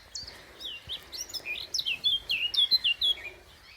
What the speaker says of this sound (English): I do often hear a chiff chaff rather than see it